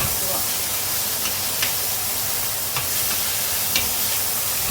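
Food sautés in a pan with a steady, close sizzle throughout, broken by a few faint clicks of stirring.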